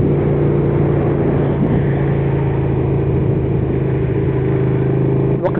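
Big-capacity motorcycle engine idling with a steady, loud drone throughout, with a brief sharper rise near the end as the throttle is blipped.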